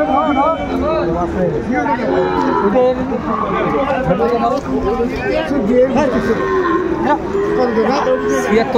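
A young Sahiwal bull calf moos repeatedly with drawn-out calls at a cattle market in Cumilla, set against a steady background of crowd chatter and murmuring voices.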